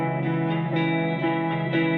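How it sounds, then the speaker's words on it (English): A sustained low, thick baritone guitar chord with compression and light grit and distortion rings steadily, re-struck every half second or so, loud and close. "That baritone, we're doing a little bit of compression, some EQ sculpting, and more distortion."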